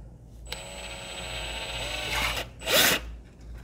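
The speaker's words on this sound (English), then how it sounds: "So you can literally just drill a hole through the box." A power drill whines as it bores through cardboard, one long steady run followed by a short, louder burst.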